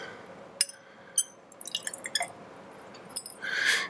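About 10 millilitres of dilute acid is poured into a glass test tube, with faint drips and small glassy clinks and then a brief trickle of liquid near the end, quiet and close.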